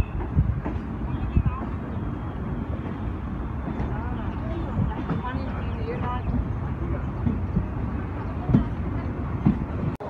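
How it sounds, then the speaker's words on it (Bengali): A Canning-bound local train pulls out of Sealdah station, its steady rumble and wheel clatter running throughout, with people talking over it. "ট্রেন কিন্তু একদম রাইট টাইমে শিয়ালদা স্টেশন থেকে ছেড়ে বেরিয়ে যাচ্ছে"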